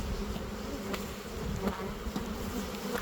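Dense honeybees crowd a hive frame with a steady close buzzing hum, no voices over it.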